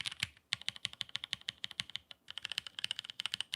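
Rapid clacky keystrokes on a Keychron Q3 mechanical keyboard fitted with hand-lubed Frozen Llama switches, typed at a steady fast pace with a couple of short pauses, close and fairly quiet with no voices.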